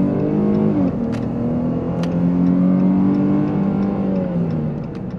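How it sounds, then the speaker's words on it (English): Dodge Charger SXT with a V6 spinning its tires, the engine revving loudly and steadily with a strained, rising drone and faint tire squeal on top, close and continuous throughout. "didn't mean to actually spin the tires there."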